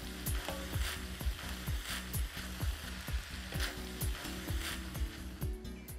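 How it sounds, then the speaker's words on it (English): Minced beef browning in a hot pan for spaghetti bolognese, a steady soft sizzle running under a rhythmic, repeating clatter. "the meat goes into the pan, and we need to brown all this meat"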